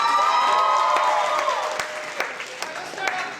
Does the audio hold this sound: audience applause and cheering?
yes